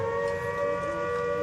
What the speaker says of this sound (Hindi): ये सायरन है जो शाम को निर्धारित समय पर बजेगा